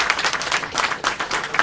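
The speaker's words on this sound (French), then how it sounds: "On peut l'applaudir" Audience applause at a Namur rally-style gathering of around 120 crews, a short burst of dense clapping with uneven swells, loud and close throughout.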